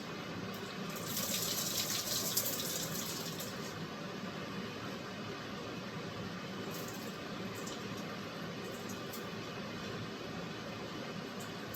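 Tap water runs in a steady broadband stream while raw chicken is rinsed under the faucet for curried chicken, with a brief louder gush near the start before settling into a constant flow.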